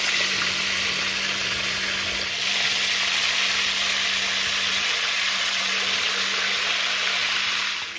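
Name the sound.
chicken pieces frying in oil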